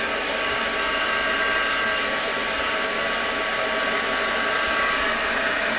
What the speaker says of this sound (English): just give me a good zap with a heat gun